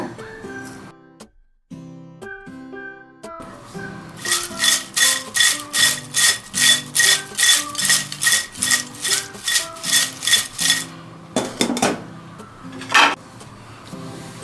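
Crispy fried tapioca chips being tossed with chili powder and salt, a dry rustling crunch pulsing in a steady rhythm of about a dozen shakes, loud and close, after a stretch of other kitchen sounds.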